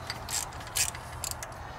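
Close, faint ratchet clicks and short metallic turns loosen bolts on a Grand Marquis alternator, a few brief bursts without talk.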